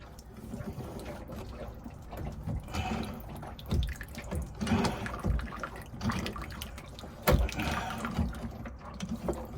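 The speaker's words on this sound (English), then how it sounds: "Drip's getting a little bit more" Water dripping aboard a 1970 Bill Tripp-designed sailboat: faint irregular drips and trickles against a quiet background, with one sharper splash near the end.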